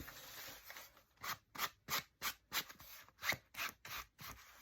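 Quiet, close scraping as black paint is dragged across an art journal page, a rhythmic series of about ten rasping strokes following a softer, smoother rub at the start.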